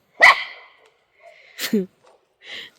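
Dogs barking outside in the cold near Tawang: one sharp bark, then a couple of shorter yips and a softer bark spaced across a few seconds against quiet surroundings.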